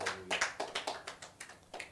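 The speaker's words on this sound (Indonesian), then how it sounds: "Tepuk tangan buat Yesus." Rhythmic congregation clapping at a Sunday church service in an even beat, about a dozen claps in quick succession, moderately loud and without voices.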